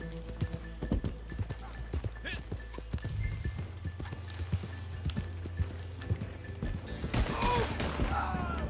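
Horse hooves clip-clop steadily in a video game, with occasional whinnies and distant gunfire bursts, while players talk over the action.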